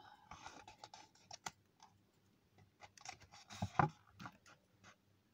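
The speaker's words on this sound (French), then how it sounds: "On plie le papier en deux." A sheet of paper is folded in half during a craft project, giving soft crisp rustles and a few sharp creasing clicks, close and quiet, with no talking.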